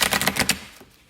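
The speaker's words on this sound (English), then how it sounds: "I will go ahead and shuffle live." Tarot cards are shuffled by hand in a quick, close run of crisp riffling flicks that fades out within about a second.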